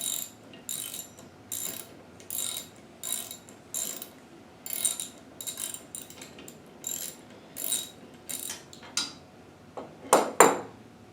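A wrench working a 9/16 nut loose on a rusty ShopSmith jointer, heard as repeated close metallic ratcheting bursts in an uneven rhythm, with a sharper clank near the end.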